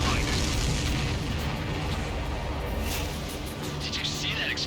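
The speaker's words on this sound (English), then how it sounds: "Did you see that explosion? Looks like that's one of them down." In the Ace Combat 7 flight game, an enemy supply ship explodes with a dull, rolling boom that sits under a continuous roar of wind and jet noise, while a voice comes through the radio.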